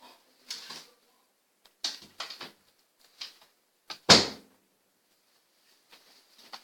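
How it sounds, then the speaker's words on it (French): A door is pulled shut indoors, preceded by several light knocks and shuffles, then one sharp close thud, with a few faint rustles afterward. "Je vais fermer la porte."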